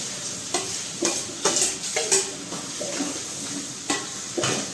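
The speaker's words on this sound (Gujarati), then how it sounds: "અહીંયા મેં કેપ્સિકમ અને પાલક લીધું છે એ પણ નાખી દઈશું આપણે" Capsicum and spinach are stirred in a pan of pav bhaji along with ground cinnamon and clove. A continuous sizzle is broken by repeated scraping stirs of a spoon against the pan, close up and with no talking.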